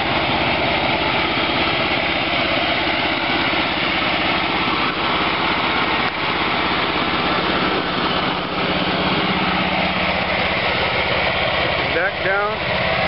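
An old early-1970s Yazoo riding mower with a 60-inch deck runs steadily throughout, a loud continuous engine drone close by with no break.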